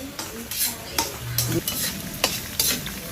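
Ampalaya (bitter gourd) sautéed in a pan and stirred, with a steady sizzle of frying under repeated scraping strokes of a utensil against the pan at an uneven rhythm, close up, no talking.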